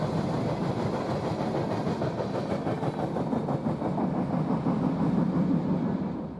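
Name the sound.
CSX freight locomotive pulling empty grain train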